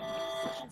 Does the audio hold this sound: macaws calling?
no